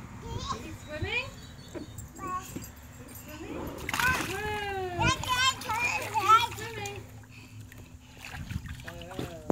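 A 16-month-old toddler splashes water while playing in a baby pool, the splashes coming in irregular bursts close by, mixed with an adult's voice and a child's babbling.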